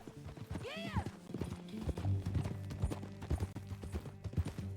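Horse hooves clip-clop in a steady riding rhythm in the video game Red Dead Redemption 2 near the Beecher's Hope ranch, with a brief whinny early on over a low ambient bed.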